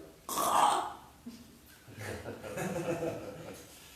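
A voice imitates a choked, faltering throat sound: a strained gasp followed by low, gurgling catches, close and fairly quiet.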